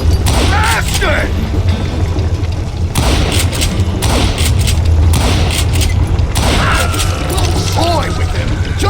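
Gunfire in a Wild West duel from the video game Call of Juarez Gunslinger: loud, close booming shots and crashing impacts over a dense, busy game soundscape, with game-character voices shouting throughout.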